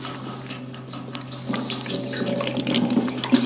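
KBS Coatings sealing liquid, one quart of it, is poured slowly into a 1930 Ford Model A gas tank, making a steady trickling gurgle that grows a little louder and fuller as the pour goes on, close by over a low hum.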